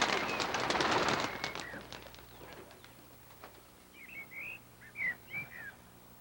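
Pigeons cooing in short, soft repeated calls that come in the second half, after a louder mixed burst of sound at the start; fairly distant and moderately quiet.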